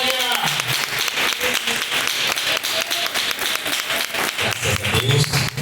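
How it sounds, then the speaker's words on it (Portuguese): A church congregation claps in welcome for a preacher during a live worship service. The clapping is dense and rhythmic, with tonal sounds like music or voices running through it from start to finish. "Receba o servo de Deus com as palmas de vitória"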